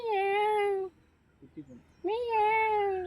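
A person mimics a mother cat with two long, drawn-out mewing cries, close and clear, separated by a short pause filled with a few soft murmured sounds.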